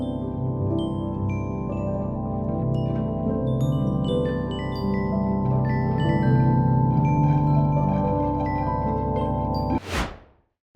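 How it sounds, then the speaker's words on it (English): Sonified interstellar wind data plays as a thick, steady drone with scattered warbling tones layered above it, loud and unbroken. It closes with a sudden rushing sweep and then silence. "When this interstellar wind data is sonified, it produces a slow, dragging hiss."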